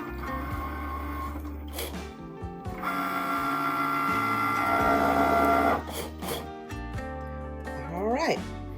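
A Cricut cutting machine working through a Merry Christmas design: a close, whirring motor drone with shifting pitch, rapid buzzy carriage movements and short pauses between passes, with no talk.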